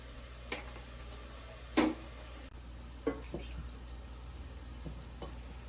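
Onions and garlic fry in plenty of oil in a pan for risotto, a faint steady sizzle broken by a few sharp clicks and scrapes of a utensil stirring against the pan.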